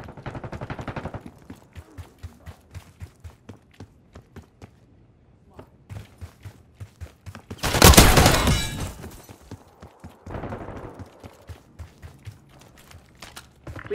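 Gunfire in Black Ops 6, scattered single shots ticking rhythmically throughout, then a loud sustained burst mid-way, with in-game voice announcements around it.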